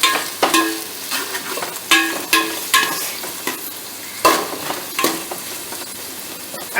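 Vermicelli sautéing in hot oil for a vegetable biryani, a steady close sizzle broken by repeated sharp scrapes and stirring knocks of a spoon against the pan.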